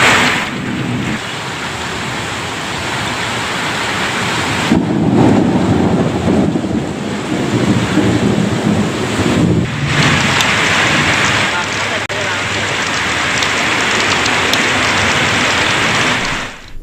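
Heavy rain with thunder in Andhra Pradesh: a steady, loud broadband wash of downpour runs throughout, with deeper rumbling swells building around the middle and shifting as the storm surges.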